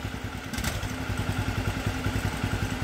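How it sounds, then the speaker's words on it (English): An old minibike's small engine runs at a quick, even putter close by, a rhythmic low chugging with a short clatter early on. "Switch on the engine. Switch on the handlebars. And it should start."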